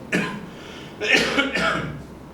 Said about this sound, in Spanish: disculpen mi tos